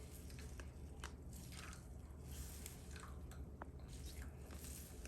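Grated coconut is squeezed by hand to press out first coconut milk for a Malabar-style Kerala fish curry, giving a steady wet squishing and dripping close by, without talk.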